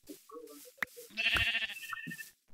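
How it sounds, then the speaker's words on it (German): Wavering bleat of a sheep in Minecraft, a single nasal call rising out of quieter game background sounds with a few short blips before and after. "Da ist auch noch ein Schaf."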